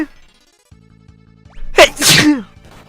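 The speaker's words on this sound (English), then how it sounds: "Also, I'm gonna sneeze." A person sneezes once, loud and close to the microphone, after a short sharp inhale. Quiet electronic game music plays underneath.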